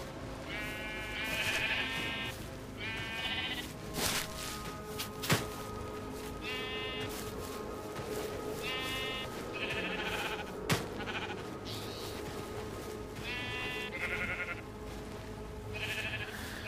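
Sheep in Minecraft bleat repeatedly throughout, several overlapping calls at irregular intervals over a steady ambient background with a couple of sharp clicks, no talking.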